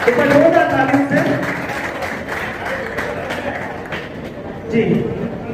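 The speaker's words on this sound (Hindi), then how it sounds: "एक बार जोरदार तालियों से" An audience at an Arora Khatri community gathering in Jodhpur claps steadily, a crowd applause bed that swells at the start and end while someone speaks over it on a loudspeaker.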